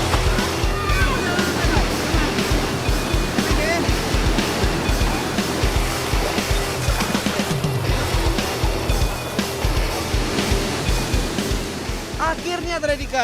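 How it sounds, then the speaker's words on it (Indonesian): The Timbulun waterfall in Indonesia roars as a steady, loud, broadband rush of falling water, close and continuous, with voices speaking over it. "gue sampai di tujuan di air terjun Timbulun"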